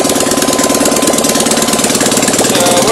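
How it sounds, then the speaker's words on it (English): A Fiat 126 652cc engine idles steadily up close, with a rapid, even chugging pulse that holds loud and constant throughout. "the way it idles is a good tell as to how well it's carburetting"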